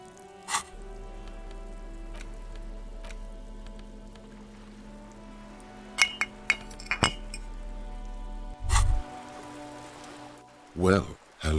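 A green glass alcohol bottle clinks in the video game Disco Elysium, with a few crisp, sharp clinks around the middle over a low rain-like hiss, followed by a couple of duller knocks.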